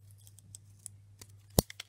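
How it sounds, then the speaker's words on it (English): Scissors cut a hole in the base of a paper flower, with faint small snips and rustles leading to one sharp, close blade snap near the end. "just cut a hole in the bottom of your base layer"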